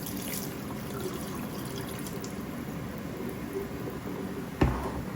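Liquid drains from fried onions in a steady, continuous watery pour and trickle, with a single knock near the end, heard close without talk.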